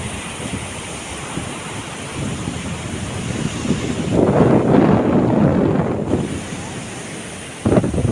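Sea waves wash onto Trincomalee beach in Sri Lanka, a continuous surf roar buffeted by heavy wind rumble, with a louder surge swelling through the middle of the stretch.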